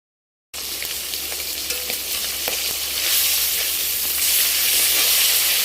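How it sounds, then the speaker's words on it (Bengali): Fish frying in a pan in a home kitchen, a loud, close, continuous sizzle that starts abruptly and swells slightly louder midway, without any voices. "তো রান্না করব হলো আমি এদিকে মাছ ভাজা"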